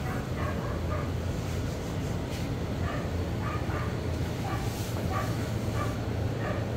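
Five-week-old puppies yip and whimper in small, repeated bursts over a steady background hum, close by and fairly soft, with no talking.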